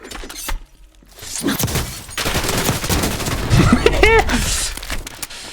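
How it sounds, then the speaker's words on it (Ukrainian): Gunfire in the video game Warzone crackles through a short burst of game audio: a quick fusillade of sharp reports and shattering clatter that rises toward the end, mixed with other game effects and a speaking voice. "десь поруч постріл"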